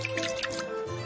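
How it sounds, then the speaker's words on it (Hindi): Water poured into a pot of cooking food makes a short, close, wet gurgle and dribble that lasts about a second. "अब थोड़ा पानी डाल देते हैं"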